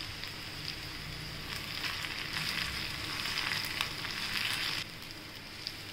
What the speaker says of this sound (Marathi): शेंगदाण्याचा कूट 2 चमचे आणि चिली फ्लेक्स टाकूया आणि आपण हलवून घेऊया